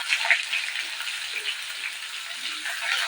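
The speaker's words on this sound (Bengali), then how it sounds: "তেলের ভিতরে কেটে রাখা উচ্ছেগুলোকে দিয়ে দেবো।" Sliced bitter gourd frying in hot mustard oil in a heated wok, a soft continuous sizzle with fine crackling spatter, fairly quiet and steady with no talking.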